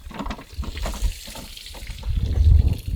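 Water draining from a flooded fishing boat that took on water up over its batteries, a steady low gushing and trickling that swells louder toward the end, heard alone without talk.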